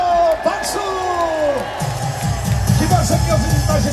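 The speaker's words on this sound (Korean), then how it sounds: "박수!" A large crowd claps and cheers loudly at a patriotic rally, whoops and shouts rising over sustained applause that swells after a brief lull.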